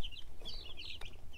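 Young Brahma chickens clucking and peeping close by in a small group, a rapid overlapping series of soft calls with one sharper cluck near the end, no talking.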